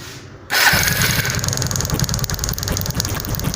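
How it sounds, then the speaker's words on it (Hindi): A TVS Apache motorcycle engine cranks and catches after a brief quiet moment, then settles into a loud, steady, rumbling idle close by. "अब बाइक को स्टार्ट करके देखते हैं"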